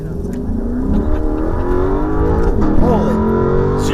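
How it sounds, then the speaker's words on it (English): Lexus LC 500 engine revving hard under full acceleration, a loud, rising, continuous roar that builds over several seconds with people talking over it inside the car. "that's one of the highlights of this, is the sound of the motor in this car"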